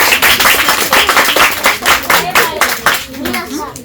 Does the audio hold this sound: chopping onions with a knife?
no